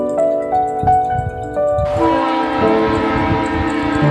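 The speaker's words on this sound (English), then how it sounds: "The train is here." Arriving train sounds its horn in several short blasts, then a long sustained chord, close and loud over a rumbling, clattering rail background.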